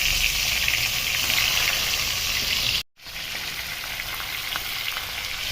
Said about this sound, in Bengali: তেল গরম হলে মেখে রাখা মাছের মাথা এক এক করে দিয়ে দেবো।